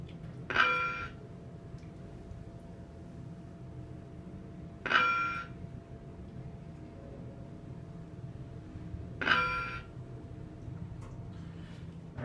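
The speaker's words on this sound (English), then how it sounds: "Now let's do a floor passing chime." A Schindler 3300 machine-room-less traction elevator in an apartment building sounds its floor passing chime three times at even intervals of about four seconds, each a short bright ding over a low cab hum.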